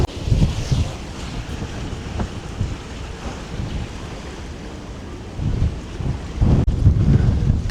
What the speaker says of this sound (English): this weather, this wind, oh my goodness. This is like what hurricanes feel like sometimes